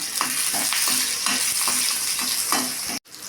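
Small shallots and garlic cloves with dried red chillies sizzle steadily in hot oil for a bottle gourd chutney, with regular stirring strokes scraping the pan before an abrupt cut near the end.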